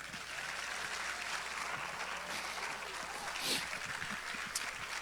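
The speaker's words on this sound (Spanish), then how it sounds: "Un aplauso al Señor." Steady applause from a congregation at a church sermon fills the whole stretch, a dense even patter of clapping with a slight swell near the end.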